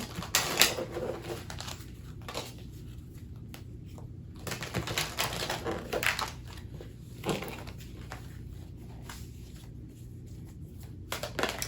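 Tarot cards shuffled by hand in a quiet room, a run of soft riffling bursts and papery snaps in an irregular rhythm, close and fairly faint, with no talking.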